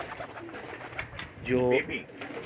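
A pigeon gives a short, close burst of cooing in a fancier's loft, a throaty warbling roll lasting under a second, with faint shuffling and background sounds around it.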